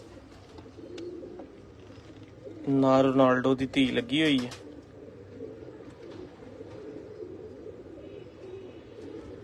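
A dove-type pigeon in a breeder's loft gives one close, throaty cooing phrase lasting about two seconds, set against a soft background murmur, while someone talks in the clip.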